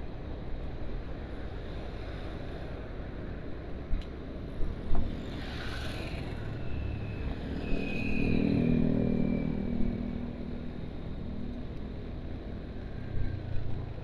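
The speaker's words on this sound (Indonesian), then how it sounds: "seperti ini ya situasi lalu lintas menuju arah bandara" Steady road traffic heads toward Bali airport on the Ngurah Rai bypass, with motorcycle and car engines passing in a constant rumbling wash and a louder vehicle swelling by midway.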